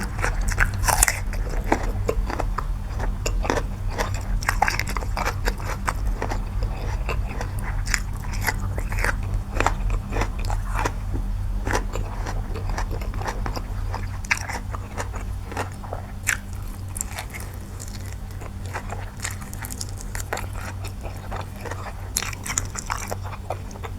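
Crisp, sweet radish is bitten and chewed close up in a long run of sharp crunches and wet crackles, repeating irregularly with no talk.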